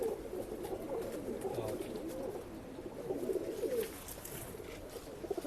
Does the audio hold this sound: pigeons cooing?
yes